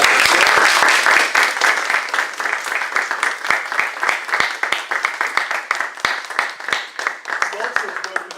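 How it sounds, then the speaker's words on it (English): An audience applauds the speakers after a talk on linguistic diversity, starting as a full burst of clapping and thinning into distinct, rhythmic individual claps, with some chatter underneath. "so let's give them a round of applause."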